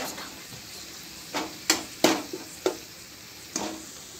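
Onions sautéing in a pan on medium heat, a soft continuous sizzle punctuated by several sharp spatula scrapes and taps against the pan.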